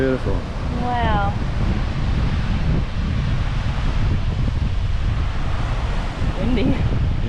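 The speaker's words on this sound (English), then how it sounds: "Windy." Strong wind gusting across open ground at Litchfield National Park, a steady loud rushing buffet on the microphone, with a person's brief voice at the start and end.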